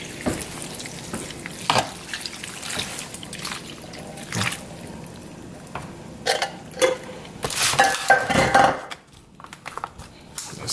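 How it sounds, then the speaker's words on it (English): Beef broth poured over oxtails topped with green peppers and onions in a pan, a liquid trickle and splashing over an ongoing sizzle, with bursts of pouring that grow denser and louder toward the end. "Cover with some beef broth"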